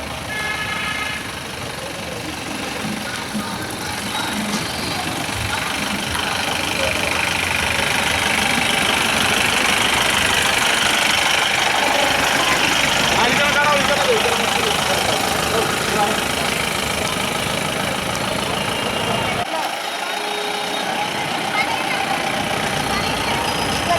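A decorated jeep's engine idles and runs steadily at a Bhim Jayanti bike rally, a continuous rumbling drone close by, with voices and crowd noise around it.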